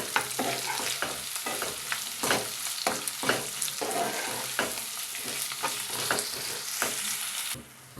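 Thin-sliced onions fry in a pan beside fish, giving a continuous loud sizzle broken by repeated scraping stirs roughly every half second, until the sound cuts off abruptly near the end.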